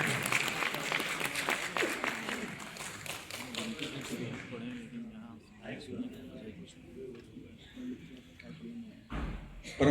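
An audience at a Hindi kavi sammelan, a poetry gathering marking the 100th birth anniversary of Atal Bihari Vajpayee, claps loudly for about four seconds. The clapping then thins out and a voice carries on over a faint hall murmur.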